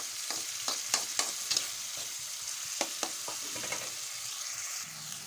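Onion and tomato frying in a pan, with a steady sizzle and repeated sharp scraping stir strokes near and clear, no voices.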